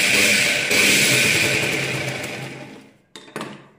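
A sewing machine runs loudly and steadily while stitching a katori blouse, winds down to a stop, then gives a few short clunks and handling knocks.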